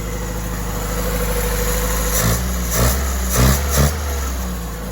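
A classic car engine idles close by after its carburettor rebuild, a steady rumble broken by several short blips of throttle near the end, with no voices.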